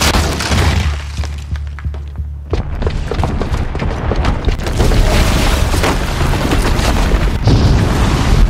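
A bomb detonates in Horizon Zero Dawn with a heavy boom and shattering crash, then a sustained roar of blast debris and rumble that stays loud for several seconds.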